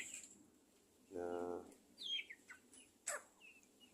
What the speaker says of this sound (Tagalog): kung maririnig nyo, parang tunog sisiw pa rin sila